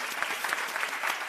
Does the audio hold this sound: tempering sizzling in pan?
no